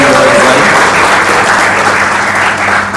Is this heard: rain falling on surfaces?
no